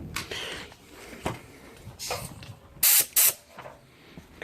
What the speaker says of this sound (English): Compressed air.